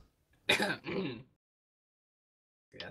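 A single throat-clearing cough, a harsh burst followed by a rougher second push, then silence before a brief start of another sound.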